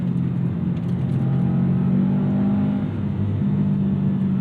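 A 2024 Toyota GR Corolla Core engine hums loud and steady from inside the car, rising in pitch partway through as the throttle is blipped for a heel-toe rev match, then settling.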